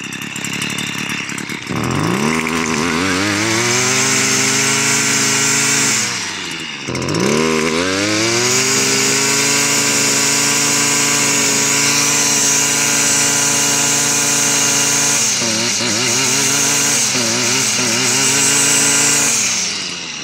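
A STIHL FS 55 two-stroke brushcutter idles steadily and loudly close by, its engine note dipping and recovering a few times, with the cutting head not turning.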